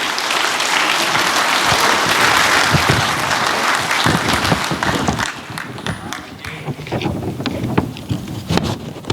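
Applause from a breakfast audience honoring an Officer of the Month, a loud dense patter of clapping that thins out in the second half, with some talk mixed in.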